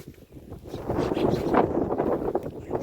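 Wind blows in a steady broadband rush that swells after the first moment and stays strong, buffeting throughout with no voices.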